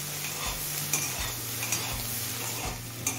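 Kharkol leaf stalks fry on a medium flame under a constant sizzle, with a spatula scraping the pan in a regular rhythm about every second, close and clear with no voices.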